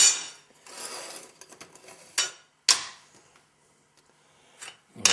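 An alcohol stove base is flipped over and set down, with several sharp metallic clanks and clatters, a few rattling scrapes between them, close up and with no speech.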